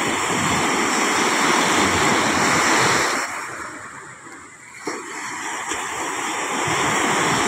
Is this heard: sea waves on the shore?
yes